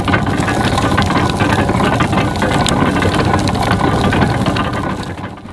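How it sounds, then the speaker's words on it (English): A tractor-driven three-roller sugar cane mill runs steadily, its engine droning with clattering, ratcheting mechanical noise from the rollers and gears, loud and close throughout. "so he started using his tractor-driven cane mill."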